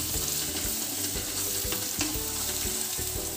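Spices and ground masala are stirred and fried in a pan over lowered gas. The close, continuous sizzle is broken by repeated scraping stir strokes, with no voices.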